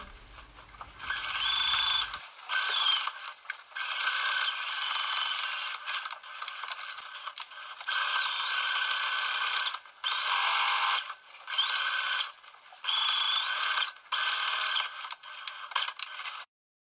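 A sewing machine runs in repeated bursts while topstitching a trouser seam, its needle whirring for a few seconds, pausing briefly, then starting again, loud and close.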